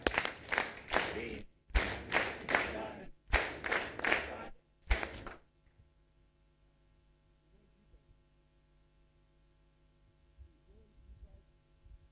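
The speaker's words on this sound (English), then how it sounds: "Can we clap for the manager?" A dinner audience at a Gor Mahia FC end-of-season dinner breaks into several bursts of loud applause, four quick rounds of clapping that stop abruptly, leaving a quiet room hum.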